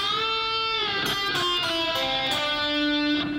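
An electric guitar plays a slow blues lick, with sustained single notes that bend upward and waver with vibrato, each picked note ringing clearly and alone.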